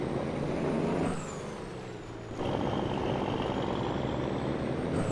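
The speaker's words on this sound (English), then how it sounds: "Truck sounds great, doesn't it?" A farm truck fitted with bull bars on a sheep and grain station near Southern Cross, NSW, Australia, runs loud and close with a steady engine roar and air-brake hiss, dipping briefly in the middle before surging back.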